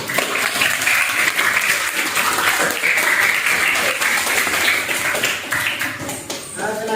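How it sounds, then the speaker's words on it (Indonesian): Students in a classroom break into loud, dense applause for all the discussion groups, a continuous patter of many hands that tapers slightly near the end. "tepuk tangan untuk semua kelompok."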